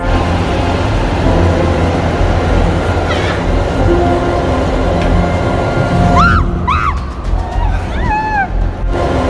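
A train rumbles steadily through a metro station, a loud continuous roar with brief squealing tones near the end.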